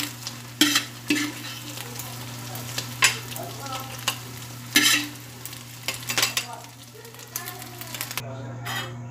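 Carrots fry and stir in a pan for a Kapampangan fried rice, with a steady sizzle under repeated sharp scrapes and clatters of a utensil against the pan.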